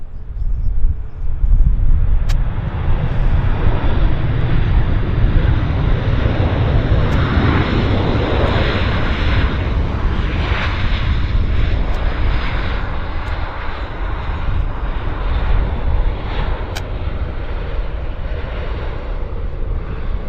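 Heavy jet airliners at Vancouver International Airport roar in a loud, broad rumble that holds steady for about twenty seconds, the sound coming from fairly close with no voices.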